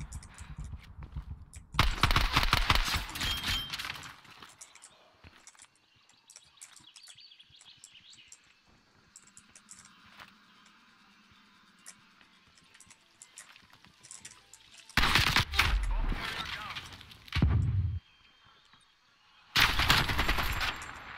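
Bursts of automatic gunfire from Call of Duty Black Ops Cold War, loud rapid volleys at the start and two more near the end, separated by quieter stretches of faint ambient game sound.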